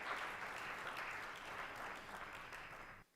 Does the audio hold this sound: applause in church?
yes